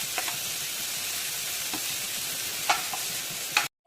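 Steady sizzling of cabbage and bell pepper stir-frying in oil, with faint scrapes and clicks of stirring over the hiss, close up and without voices.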